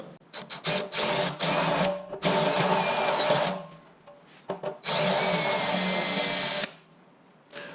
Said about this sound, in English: I have a step drill bit in here.